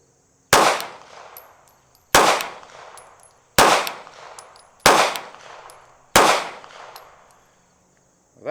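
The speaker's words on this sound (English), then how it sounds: "We're going to shoot at the top left target." Five pistol shots of 124 grain XTP reloads ring out at a target, each a loud sharp crack with a ringing tail, spaced evenly about a second and a half apart, no speech between them.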